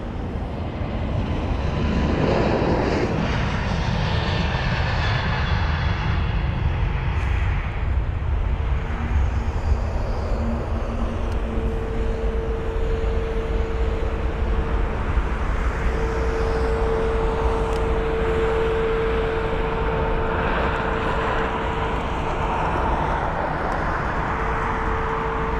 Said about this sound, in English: we've got the JetBlue 321 Neo off to New York JFK, just departing now